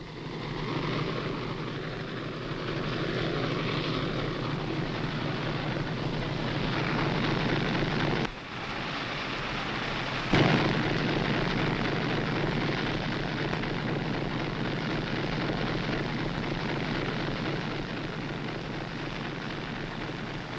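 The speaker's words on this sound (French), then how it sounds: "Toujours ces moteurs." Engines aboard the Casabianca submarine run in a loud, unbroken drone that fills the space, with one brief dip and a sharp knock partway through.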